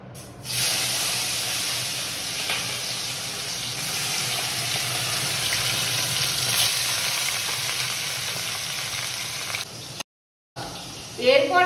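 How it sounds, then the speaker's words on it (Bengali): Fish fry in hot oil in a kadai, a loud steady sizzle that runs continuously for about ten seconds, then cuts out briefly before resuming with a voice. "তো আমি এখন মাছগুলো দিয়ে দেবো কড়াইয়ের মধ্যে।"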